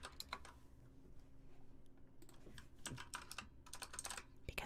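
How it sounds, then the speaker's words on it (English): A loud computer keyboard is typed on rapidly, with close, crisp key clatter in irregular bursts and brief pauses, heard alone with no talking. "everybody gets keyboard typing ASMR for a second"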